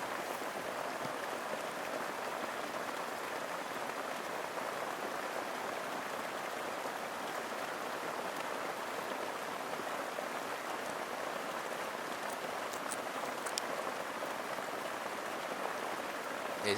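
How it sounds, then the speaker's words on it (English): Heavy rain pouring down in the Malaysian jungle around a shelter, a dense, unbroken roar of drops hammering nearby surfaces for the whole stretch, with no voices. "It's absolutely pouring down."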